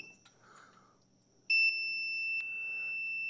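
After a faint click and quiet hiss, a multimeter's shrill continuity beep starts abruptly and holds steady and loud until the end, while testing a Toro zero-turn mower's electrical system.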